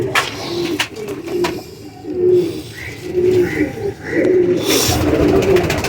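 Pigeons coo in low, repeated throaty phrases close by, alongside several chirps and some background noise.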